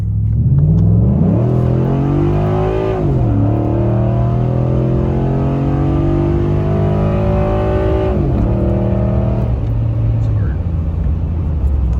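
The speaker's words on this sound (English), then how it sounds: "Seems like it shifts a little more aggressive on E85 too." A tuned Ford F-150 with a 5.0 V8 running on E85 revs up through the gears, its engine note climbing and dropping at each firm shift, loud and steady inside the cab.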